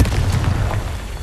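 A Confringo blasting spell detonates in Hogwarts Legacy with a loud, deep boom and rumbling burst that slowly decays over about a second.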